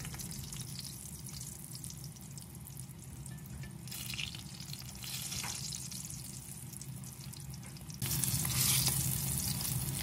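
Sliced eggplant fries in a pan with a steady hissing sizzle, close and continuous, and it grows louder near the end as more eggplant goes in.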